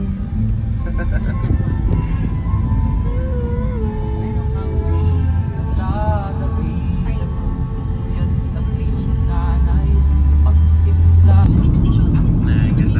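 Highway traffic in Kaohsiung, Taiwan, a continuous loud rumble of cars and engines heard from a passing vehicle, with a deeper surge near the end.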